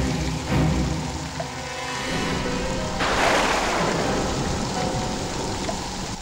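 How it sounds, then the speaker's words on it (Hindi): Heavy rain falls steadily at night, a dense, continuous wash of drops on surfaces, loud and close, with a surge of stronger downpour partway through and no voices. "बाबू, ये बारिश नहीं रुकेगी।"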